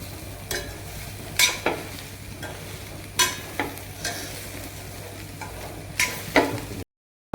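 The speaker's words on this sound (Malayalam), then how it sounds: "അടുത്തായിട്ട് നമ്മൾ കപ്പ ഇട്ടു. അത് കഴിഞ്ഞത് നമ്മൾ നന്നായി ഇളക്കി കൊടുക്കണം." Tapioca being stirred in a hot cooking pan, soft sizzling under a series of scraping, clinking stirs spaced about a second apart, close and fairly loud.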